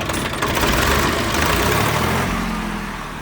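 A Swaraj 855 tractor's diesel engine runs continuously at close range, a loud, steady, throbbing rumble that eases slightly toward the end.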